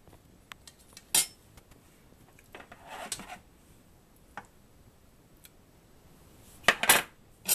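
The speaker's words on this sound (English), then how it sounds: "I'll put some in a plate" Sparse, bright clinks of cutlery against dishes as ribs are served onto a plate, a few isolated taps followed by a louder cluster of clatter near the end, with no talking.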